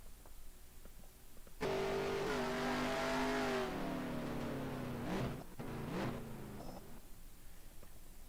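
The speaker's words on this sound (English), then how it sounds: "I like the sound of a big roaring V8 engine" A loud V8 racing engine in a Formula 1 video game roars to life and revs hard, its deep growl rising and falling through gear changes with no talking over it.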